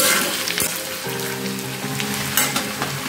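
Potatoes fry in a pan with a steady, close hiss and crackle of sizzling oil, broken by a few sharp stirring scrapes and clatters, with no one talking.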